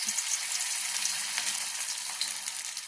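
Small shrimp fritters, kucho chingri bora, sizzle steadily in hot oil, a dense, even crackle close by with no voices.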